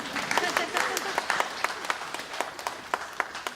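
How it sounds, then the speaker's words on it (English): Scattered applause from an audience at an autism summit in San Francisco, crisp individual claps rising and thinning out, with a voice speaking over it. "You can clap."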